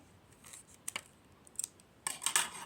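Scissors snip through a plastic toy package in a few quiet, crisp cuts, with a louder flurry of snipping near the end.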